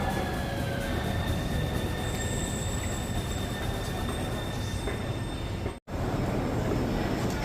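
A Copenhagen metro train runs steadily close by, with continuous rolling rumble and a faint high wheel squeal throughout, broken by a sudden brief drop to silence near the end before the rumble resumes.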